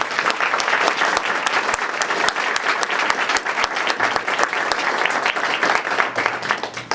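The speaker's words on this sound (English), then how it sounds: "And if we could just give them a round of applause." Banquet audience applauding veterans at a students for life dinner, a dense sustained round of clapping with sharp individual claps standing out, steady and fairly loud from start to finish.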